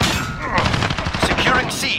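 Rapid bursts of gunfire from a Call of Duty: Modern Warfare match crackle for about two seconds, dense and loud, with faint talk mixed in.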